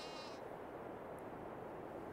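A sheep in the farming game Farming Simulator 22 gives one brief, faint bleat at the start, with a steady hiss of background noise continuing afterward.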